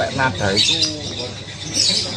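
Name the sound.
lovebird calling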